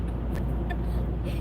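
Road traffic rumbles past outside, a steady low roar of passing cars with a brief brighter hiss, fairly loud and continuous.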